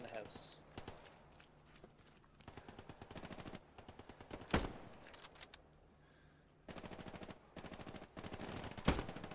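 Video game gunfire in a forest map, bursts of rapid automatic shots with a couple of louder single cracks, close and punchy, interleaved with brief quiet gaps and player voices talking over the action.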